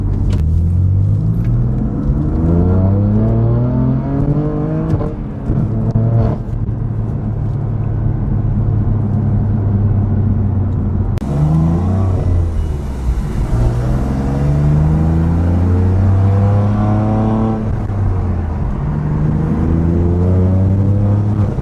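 A BMW F80 M3 fitted with Dinan carbon fiber intakes, exhaust valves open, rumbles and revs through repeated rising and falling sweeps, loud and close, with a brief lull near the middle.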